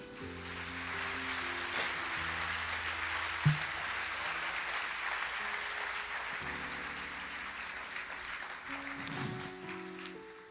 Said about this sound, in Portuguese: Em nome de Jesus, aplauda o Senhor.